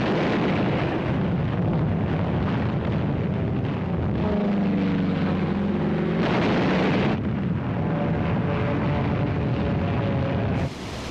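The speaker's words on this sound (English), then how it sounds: "Wave after wave of American aircraft paved the way with a massive aerial bombardment." A massive World War II aerial bombardment by waves of American aircraft in the Pacific: a dense, continuous roar of explosions and rumbling blasts, loud and unbroken throughout.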